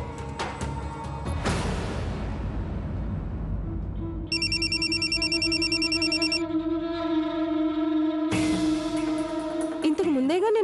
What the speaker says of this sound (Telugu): ఫోన్ వచ్చినట్లుంది